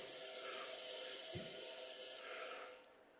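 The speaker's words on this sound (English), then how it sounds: "I'm going to sand this bottom part while it's easy to get at." Sandpaper rubbing the bottom of a dense exotic wood piece on a wood lathe, a steady close hiss of abrasion that eases off near the end.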